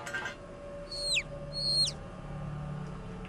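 An injured bird in the horror game Angels of Death gives two short, sharp descending calls in quick succession over a low ambient hum.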